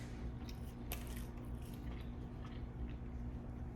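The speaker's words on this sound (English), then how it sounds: "When you bite them together, they give like a nice texture of crunch." Someone bites into two stacked pieces of thin, cracker-like Pizza Hut tavern style pizza crust, giving a brief crisp crunch followed by quiet chewing.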